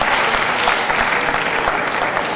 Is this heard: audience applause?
yes